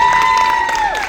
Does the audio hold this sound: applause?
yes